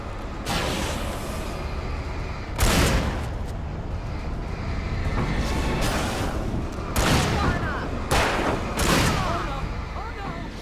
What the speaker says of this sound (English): Sarah's kind of handling them with the shotgun